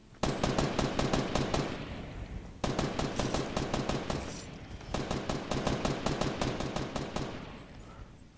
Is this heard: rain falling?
no